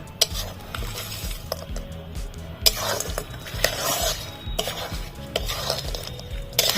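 Jaggery and sugar are stirred into apple chutney in a pan, with repeated scraping strokes, soft clinks of a spoon against metal and a faint sizzle underneath. No one speaks.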